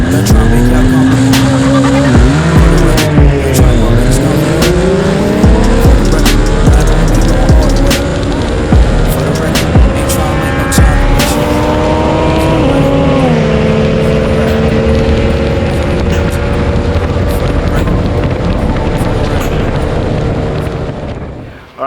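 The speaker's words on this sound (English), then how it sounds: "that was a beast of a bike. That was a Yamaha MT-09." Yamaha MT-09 motorcycle being ridden hard, its loud engine rising and falling steadily through the revs with sharp gear changes, sustained close and powerful until fading at the very end.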